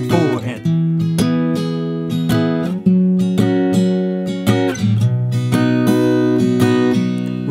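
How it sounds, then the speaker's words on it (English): Acoustic guitar strumming for a song, with the thumb on the bass notes and a down-up pattern over a simple three-chord progression: steady, moderately loud rhythmic strums with ringing chords and no voice. "So the strumming pattern that I'm playing sounds like this over this progression."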